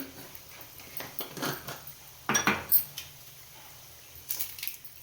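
Mustard seeds going into a pan while cooking puliyogare, a few soft clinks and scrapes of a utensil against metal followed by faint light crackles, quiet and close.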